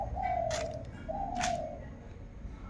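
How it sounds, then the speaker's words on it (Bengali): A dove coos from a rooftop, two distinct drawn-out calls about a second apart, moderately near over a steady outdoor background hum. "ওই আমার ছাদের মধ্যে ঘুঘু বসে আছে আর ঘুঘু ডাকছে"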